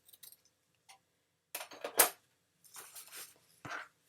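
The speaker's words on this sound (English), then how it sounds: "And I'm going to cut this off. I'm going to use my big scissors." Big scissors cutting through ribbon while crafting a candy bar pocket: a few soft clicks, then a cluster of sharp snipping and rustling sounds, close and quiet with no talk.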